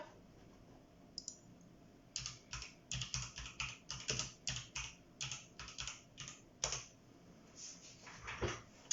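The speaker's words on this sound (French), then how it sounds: "donc Nicole elle est malentendante, donc je vais lui écrire." Typing on a computer keyboard: bursts of quick, close key clicks in uneven rhythm, pausing briefly between runs, over a quiet room background with no talking.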